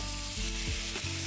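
Cajun fried rice sizzles in avocado oil on a Blackstone griddle, a loud continuous frying hiss with brief shifts as it is tossed.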